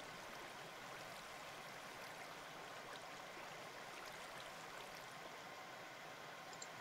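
Water placed in a Minecraft game world flows with a steady, soft rushing like a small stream, constant and fairly faint throughout with no talk.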